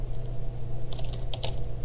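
Typing on a computer keyboard: a short cluster of light clicks in the second half, over a steady low hum.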